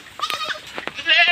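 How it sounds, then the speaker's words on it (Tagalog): Goats bleat in quick, overlapping calls as they come out of their pen on a farm, loud and close, with several short cries in a row. "Yan na, lumalabas na yung mga kambing natin."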